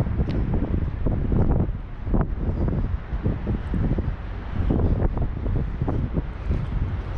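Strong wind in the mountains at the Upper Lars border crossing blows into the microphone as a steady, loud, gusting rumble with rustling buffets and no voice.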